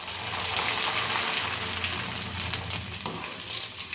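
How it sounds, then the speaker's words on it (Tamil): Snack flakes deep-frying in hot oil for an evening treat, a steady dense bubbling sizzle that runs close and loud throughout, with a brief stir or shift near the end. "நல்லா பொரிஞ்சு வந்துடுச்சுங்க"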